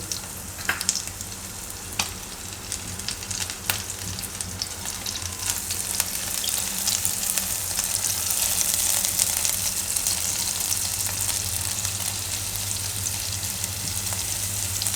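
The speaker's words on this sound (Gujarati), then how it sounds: "તો હવે આપણે આ માખણ આપણું થઈ ગયું છે ગરમ. તો એમાં નાખી દઉં હું આ મરચાં અને લસણ બે." Green chillies and garlic dropped into hot butter for a corn khichu, a few sharp taps early, then a continuous sizzle that builds and holds steady, close with no voices.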